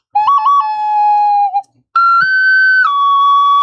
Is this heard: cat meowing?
no